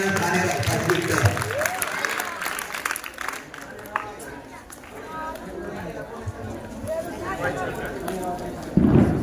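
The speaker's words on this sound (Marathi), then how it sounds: "टाळ्या वाजवा मुलं." Children clap at a school's annual prize distribution ceremony for sports events, a loose, ragged applause mixed with crowd chatter while an announcer speaks over it.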